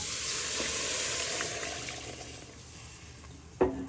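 Vegetable stock, butternut squash and cannellini beans go into a hot pan for rosemary and butternut squash soup, producing a steady bubbling sizzle that slowly fades, with a sharp clatter near the end.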